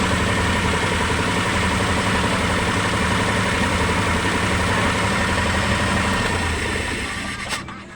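A Multicab fitted with a 155 carburetor idles alone at close range, its engine holding a steady, even rumble before tapering off near the end.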